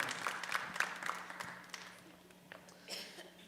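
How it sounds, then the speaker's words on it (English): Applause from the audience at a natural bodybuilding show in Tucson, a scattered patter of clapping that is strongest at the start and fades into thinner claps and room noise. "let's give Bree another round of applause from Visit Tucson"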